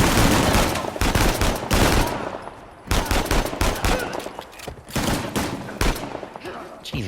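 Gunfire during an ambush in the video game Uncharted: The Lost Legacy, loud close bursts of rapid shots with short lulls, crowded battle effects behind.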